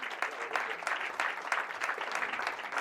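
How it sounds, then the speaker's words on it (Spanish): Audience at a talk on addiction in Jumilla gives a round of applause, a dense, steady wash of many hands clapping at close range, pulsing slightly throughout. "un aplauso para Pedro"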